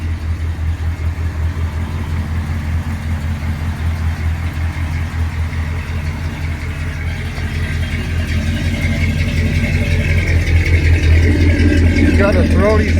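A 1978 Ford F150 truck engine idles with a deep, throaty rumble, steady and close, swelling slightly louder toward the end.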